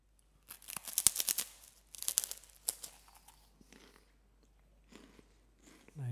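Close biting and crunching into an unsalted organic brown rice cake, two or three sharp crisp bites followed by softer chewing and crinkling, with a brief rustle at the end.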